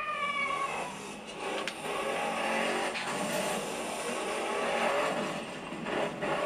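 A car doing donuts in the Borderlands video game: a continuous revving engine drone with tire squeal and skidding, steady and fairly loud throughout, with no talk over it.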